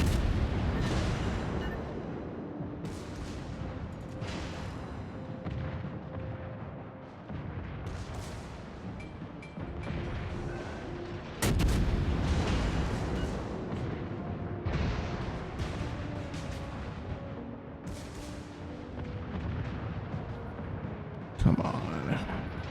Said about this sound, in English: Why is it me that you choose to fire those blasted torpedoes at?